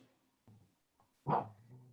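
Puppies bark in the background, starting as a few faint, scattered yelps before one louder, closer bark near the end; nobody speaks.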